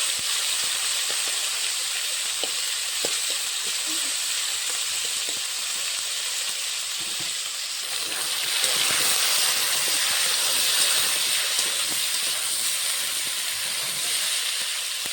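Masoor dal fries lightly in a pan, producing a steady, close sizzling hiss that swells a little partway through, with faint scraping clicks and no talking.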